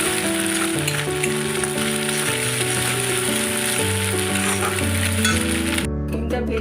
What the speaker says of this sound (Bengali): কড়াটা গরম হয়ে গেছে, এবার এর মধ্যে একটা ডিম দিয়ে দিলাম